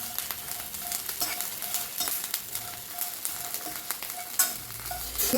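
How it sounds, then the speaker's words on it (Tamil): Curry leaves and coarse rock salt dry roasting in a pan for idli podi, giving a steady crackling sizzle with repeated scraping stir strokes, close and moderately loud, with no talking. "கருவேப்பிலையை நல்லா போட்டு வறுத்துக்கிடுவேன்."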